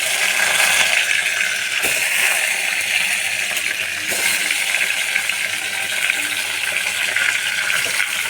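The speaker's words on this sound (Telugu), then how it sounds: "ఇలా వేసుకొని ఒక 5 to 10 minutes ఆయిల్లో ఇలాగే ఫ్రై చేసుకోవాలి" Whole eggplants fry in hot oil with mustard seeds and curry leaves, producing a loud, continuous broadband sizzle with a couple of brief dips, close up and unbroken.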